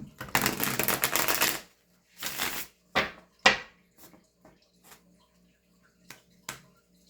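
A deck of tarot cards riffled and shuffled up close: a dense rapid flutter for over a second, then shorter shuffling bursts and scattered card taps fading out.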